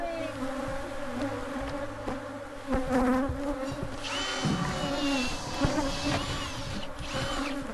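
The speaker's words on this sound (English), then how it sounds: "I'm looking for bees coming out of there." Bees buzz steadily around a hole in the ground, a dense, droning hum with several insects circling close to the listener, rising and thickening in the second half.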